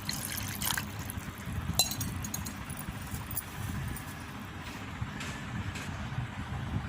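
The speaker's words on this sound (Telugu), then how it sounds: "కడిగేసి ఒకసారి, తర్వాత వాటర్ పోసుకుందాం." Water is poured quietly over tamarind in a bowl, giving a soft, low trickling wash with a few faint clinks, with no voices.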